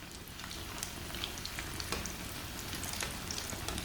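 Crispy chicken bread sizzling steadily in a frying pan, both sides already fried, with a continuous dense crackle and occasional sharper pops, close and fairly loud with no talk.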